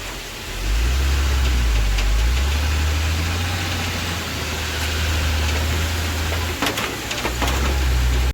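A tipper truck stuck in the ground drones loudly and steadily up close in a special low gear, its deep engine note pushing on for several seconds with a faint bird call over it.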